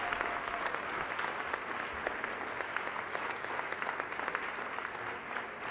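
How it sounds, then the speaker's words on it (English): A conference audience at a closing plenary in New York gives a sustained round of applause, dense and even throughout, heard from within the hall. "Please, another round of applause for that amazing, amazing human being"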